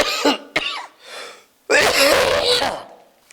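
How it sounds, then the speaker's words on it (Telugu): A person coughs near a dumping yard, with a few sharp bursts followed by a longer, harsh coughing fit close up. "నాకు దగ్గు, జలుబు అన్నీ స్టార్ట్ అయినాయి."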